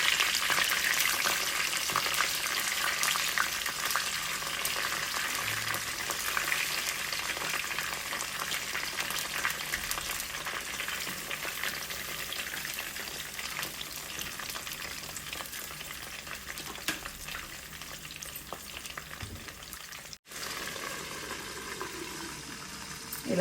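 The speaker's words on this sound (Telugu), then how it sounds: "ఆయిల్ కొంచెం వేడెక్కిన తర్వాత ఇలా స్టఫ్ చేసుకున్న వంకాయల్ని ఇందులో వేసి మగ్గించుకోవాలి" Stuffed eggplants fry in hot oil in a pan over medium flame, giving a steady, close sizzle that runs continuously, with a brief clatter near the end.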